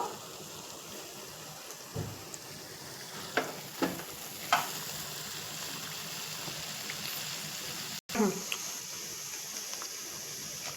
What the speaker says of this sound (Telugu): చూడండి, రెండో వాయి కూడా కొంచెం వేగుతోంది కదండి